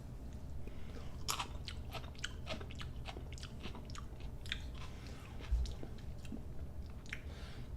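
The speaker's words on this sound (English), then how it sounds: "I just tasted 4 jalapenos" Someone bites and chews raw jalapeño peppers, with close, crisp crunches and wet chewing noises in an irregular rhythm, a few sharper bites standing out over steady low background noise.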